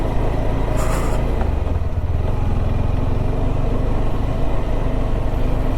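Motorcycle riding a windy mountain road toward Muktinath, a steady loud engine drone with wind rumble running throughout, close and continuous with no talking.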